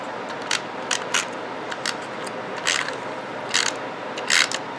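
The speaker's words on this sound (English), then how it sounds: "So let's take our snail adhesive and we're going to go ahead and put the black" A snail adhesive tape runner rolls glue strips onto a handmade card, giving short clicky, scraping bursts at irregular intervals, close and fairly crisp in a quiet room.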